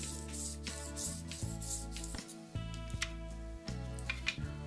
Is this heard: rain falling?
no